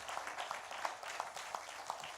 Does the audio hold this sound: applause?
yes